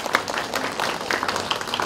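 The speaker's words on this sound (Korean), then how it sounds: "환영의 박수 부탁드리겠습니다" Brief applause from an audience at a forum's founding meeting, a light patter of clapping heard alone.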